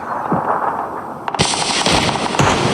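Rapid automatic gunfire in PUBG: Battlegrounds, loud bursts of close shots with sharp cracks, following a brief lull; no talk.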